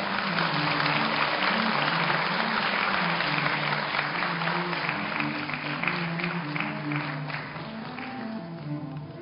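An audience at a 2008 university graduation ceremony applauds an award recipient, the steady, dense clapping filling the hall at even strength throughout, with a low sustained tone underneath.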